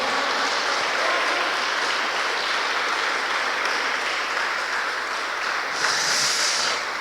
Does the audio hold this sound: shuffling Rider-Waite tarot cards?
no